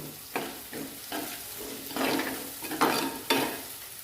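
Tomatoes cook with onion in a pan on the stove, a soft steady sizzle broken by several stirring scrapes and clatters at irregular intervals, heard up close.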